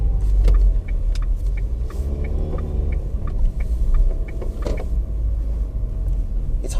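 A 2018 Renault Duster with a four-speed gearbox climbs a hill, its engine humming in a steady low rumble heard from inside the cabin, with faint interior clicks and rattles.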